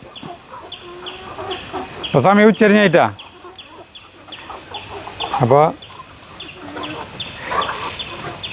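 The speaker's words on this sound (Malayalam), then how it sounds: "ചാത്തമാരൊക്കെ കൂവി തുടങ്ങി" Two loud rooster crows ring out close by, with clucking hens and other birds around and a person talking in between.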